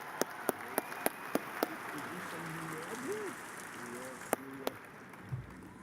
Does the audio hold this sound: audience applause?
yes